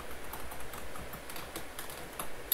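Rapid, light keystrokes on a computer keyboard while entering a Google Sheets formula, a close run of quiet clicks over low room noise.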